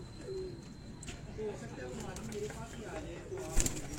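Pigeons coo on a rooftop loft in Kasur, soft low repeated coos at roughly one-second intervals under faint background noise, with a brief clatter near the end.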